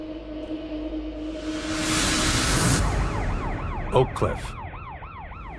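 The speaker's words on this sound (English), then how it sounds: "John Brewer hears police sirens outside his shoe store." Police sirens wail in the street outside a shoe store in Oak Cliff, rising into a loud swell and then cycling through rapid yelping sweeps, with a brief spoken voice over the sound.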